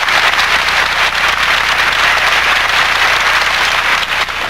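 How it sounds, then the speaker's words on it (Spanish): A large congregation breaks into immense, sustained applause at the close of a homily, a dense wall of clapping that stays steady and loud throughout with no voices. "La leyó y al final un aplauso inmenso."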